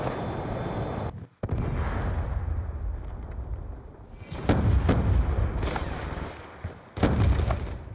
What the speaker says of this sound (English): Friendly Hellstorm missile inbound.